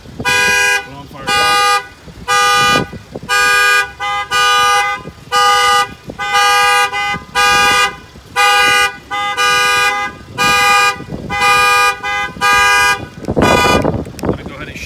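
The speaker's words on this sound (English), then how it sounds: "I'm gonna go ahead and shut off the alarm and that shuts off the unit." A 2018 Ford F-150 alarm sounds loud and close, its horn honking in a steady on-off pattern about twice per second for the whole stretch, with brief noises between blasts.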